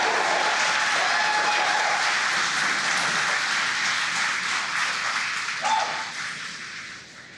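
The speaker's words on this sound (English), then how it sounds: "as you can hear the cheering in the background" Cheering and applause at SpaceX launch control after stage separation on a GPS satellite launch for the US Space Force, a dense crowd roar sustained throughout, tapering off near the end.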